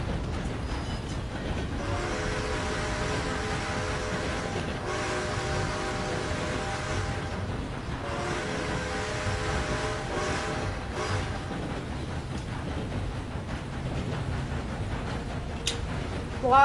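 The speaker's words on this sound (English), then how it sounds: "You can reverse a train." In a video game, a train rumbles steadily along with rhythmic clatter and a continuous mechanical drone, heavy and close throughout.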